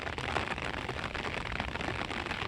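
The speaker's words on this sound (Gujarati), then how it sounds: "ઓલી બાજુ વરસાદ રેડો વધારે છે અને આવી રીતે જ પડે છે" Rain falling on a road, a steady broadband hiss of drops spattering the surface, dense and continuous throughout without pauses.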